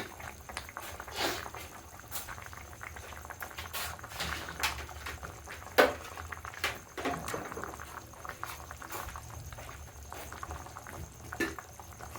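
A pot of egg curry thickened with gram flour simmers at a steady boil, with soft, irregular bubbling and popping close by. It continues evenly for several seconds with no voices.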